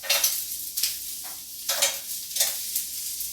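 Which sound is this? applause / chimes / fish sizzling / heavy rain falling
fish sizzling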